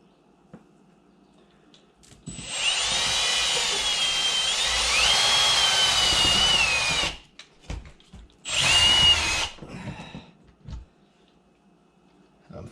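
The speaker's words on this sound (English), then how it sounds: "I'm going to drill a pilot from the inside center" Power drill boring a pilot hole through a house wall from the inside for a mini-split install, a loud whining run of about five seconds, then a shorter second burst and a few faint knocks.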